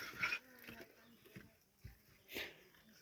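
A distressed dog whimpers in short, faint, high whines, a few separate cries spread over a few seconds with soft rustling and low background noise between them.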